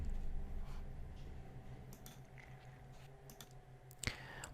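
A computer mouse clicks a few times, small sharp taps spread sparsely over a quiet background hum, one slightly louder click near the end.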